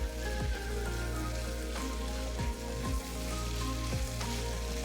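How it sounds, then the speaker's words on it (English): Ingredients sauté in an electric wok with a soft, steady sizzle, quiet and continuous, under a faint tonal background hum and no talking. "Turn up our temperature just a little bit more and continue to saute"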